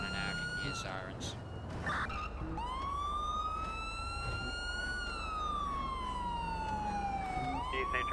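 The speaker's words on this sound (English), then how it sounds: "Just coming around the corner now, I can hear sirens." A wailing police siren in the video game GTA 5 rises and falls over a constant engine drone, with a steady low rumble throughout and occasional sharper sounds.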